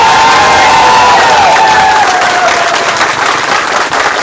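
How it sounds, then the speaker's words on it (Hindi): An audience claps and cheers loudly at an event for Jharkhand home guard personnel, a dense burst of applause close by with some shouting mixed in. "अपने लिए ताली बजा दीजिए।"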